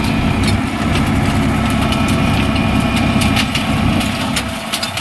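A nearby Eicher 551 tractor engine runs steadily, a loud continuous diesel rumble with no talking.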